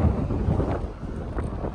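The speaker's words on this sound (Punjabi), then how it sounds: "ਸਮੁੰਦਰ ਅਤੇ ਹਵਾ ਬਾਹਲੀ ਚੱਲੀ ਜਾਂਦੀ ਹੈ" Wind blowing across an open ship deck at sea, a steady buffeting rush of air against the microphone with low rumble underneath.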